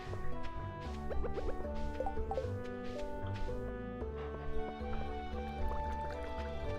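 Watering a dog's bowl in Stardew Valley, soft splashing and trickling water effects over light background game music, moderately quiet with no talk.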